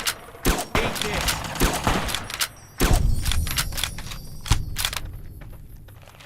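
Gunfire in Fallout: New Vegas rings out in sharp, loud shots and short rapid volleys, irregularly spaced and close, with a voice talking between bursts before it thins out near the end.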